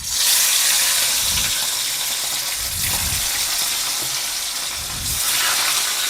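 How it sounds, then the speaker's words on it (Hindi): Rohu fish pieces spit and crackle in hot oil, a loud, steady sizzle running throughout with a few low bubbling surges as pieces go in, close up and without talk. "अब मछली के पीस को बड़े सावधानी से एक एक करके डालेंगे"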